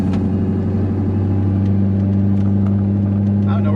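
A cammed C5 Corvette Z06 engine runs loud and steady with a heavy low rumble throughout, holding a fairly constant pitch rather than rising sharply, with faint voices underneath.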